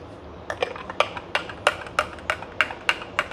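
A carving spoon stirs in an espresso cup, giving about a dozen light, bright clinks at an even pace, close and alone.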